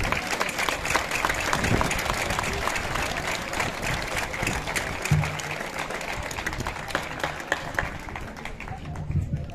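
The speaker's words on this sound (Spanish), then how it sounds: "Un aplauso para Carmen" Dense, lively clapping from the audience at a village festival for the godmothers in Guadramiro continues throughout, with a few sharper claps and some crowd murmur mixed in.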